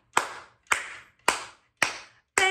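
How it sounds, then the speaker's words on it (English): Five sharp hand claps in a steady, evenly spaced rhythm during a children's music lesson, close and clear with short decays and no talking. "Clap your hands with me."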